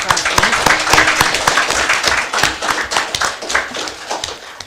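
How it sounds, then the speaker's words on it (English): Audience applause at a Central Bank of Belize press briefing, a dense, steady patter of many hands clapping close by for several seconds, with a brief spoken word near the start. "Let's give him a round of applause,"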